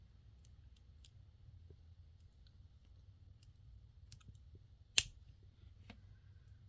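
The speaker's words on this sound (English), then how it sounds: "So now we're going to snip this excess off." Wire cutters snip excess wire once in a quiet room, a single sharp close click standing out against faint background ticks.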